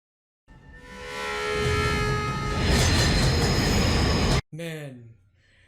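A subway train in a film scene rumbles loud and close with broad roaring noise and steady tonal squeals from the wheels, then cuts off sharply near the end, followed by a brief lower rush and a short burst of sound.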